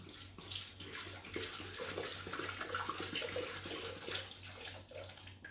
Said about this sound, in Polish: Do naczynia miksującego, czyli tutaj, mamy wlać wodę.